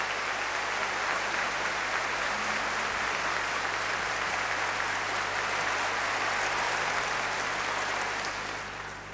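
Sustained audience applause for a singer fills a large theatre, the Teatro Gran Rex, with steady, dense clapping heard alone and tapering off at the very end.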